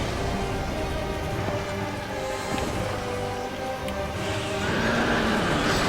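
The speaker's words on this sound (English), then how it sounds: "Oh, the horse is gonna breathe dark magic at you." A horse enemy in Dark Souls 2 whinnies in a loud, drawn-out neigh among game effects and a rain-like hiss, with a brighter burst near the end.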